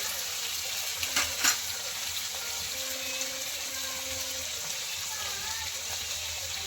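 Chopped onion frying with turmeric and spices for a fenugreek-greens dish gives a steady close sizzle, broken by a couple of brief stirring knocks near the start.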